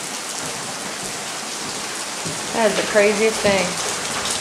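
Rain falls on a house as a steady, dense hiss of drops that runs throughout, with a person speaking over it near the end.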